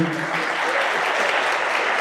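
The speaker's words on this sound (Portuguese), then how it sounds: "Dá uma salva de palmas para a América para mim, por favor." Audience applause at a coffee business event, steady, dense clapping filling the whole stretch, fairly loud and close, with a few voices faintly mixed in.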